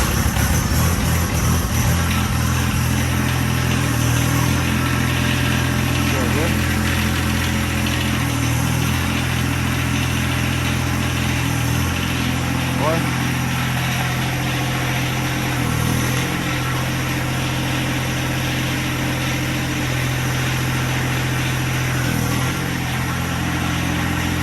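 A John Deere 1025R compact tractor engine idles steadily and loudly up close, its even mid-pitched rumble holding for the whole stretch with small periodic rises and dips and no talking.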